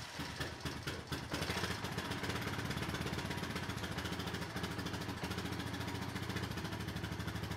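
A Honda Foreman 450 ATV engine runs at a steady idle after an oil change, with a rapid even putter that stays fairly quiet and constant throughout, and no voices.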